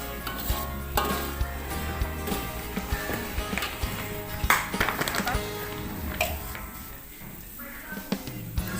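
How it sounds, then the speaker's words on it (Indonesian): Vegetables being stirred in a hot frying pan until wilted, with steady sizzling under repeated scraping and tapping strokes of a utensil against the pan, close and continuous with occasional sharper clinks. "Diaduk lagi hingga rata dan sayuran layu."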